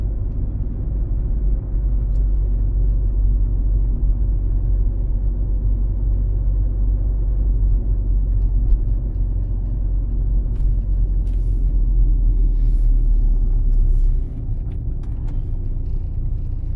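A car moves along a city street in Cherkasy during a practical driving exam, giving a steady low engine and road rumble from inside the cabin that drops slightly near the end, with no talking.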